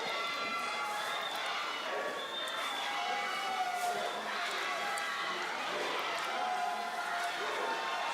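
Football fans cheer in a stadium during an Arunachal league match, a steady distant crowd roar with occasional whistles and shouts running beneath a commentator's voice.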